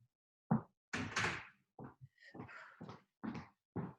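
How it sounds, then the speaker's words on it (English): A door in a home office swings shut, giving a run of close, fairly quiet knocks and thuds with short pauses between them. "I'm just going to shut my door here."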